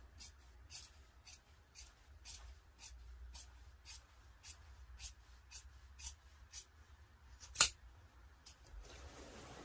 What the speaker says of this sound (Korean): 자, 그 다음에 후드 쪽도 다 잘라주세요.